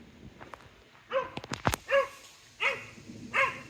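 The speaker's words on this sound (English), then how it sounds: "The dogs have just woken Monty up." A dog gives several sharp, close barks spaced out over a few seconds, with a few softer yips and clicks leading in.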